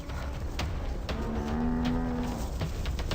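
African buffalo cows give a deep, drawn-out lowing moo as the herd rallies against lionesses, heard close and clear over a rumbling background of hooves and movement.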